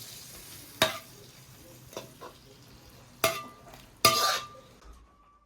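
A spatula clinks and scrapes against a pan while dry-pot pork intestines with beer, oyster sauce and dark soy stir-fry, making four sharp metallic hits over a faint, steady sizzle.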